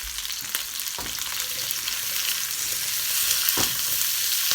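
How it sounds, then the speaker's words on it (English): Curry frying in coconut oil over moderate heat is stirred in the pan, a steady close sizzle with intermittent scraping strokes and clinks of the spoon, no voices over it. "I'm going to give that a bit of a boosty stir at the minute."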